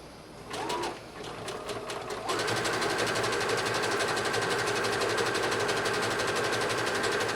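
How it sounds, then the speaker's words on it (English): A sewing machine zigzag-stitches around the raw edge of a dress skirt, starting with a few short bursts and then running in a steady, close, rapid whir of needle strokes. "I'm going to zigzag stitch all the way around this raw edge to give us a nice finished look"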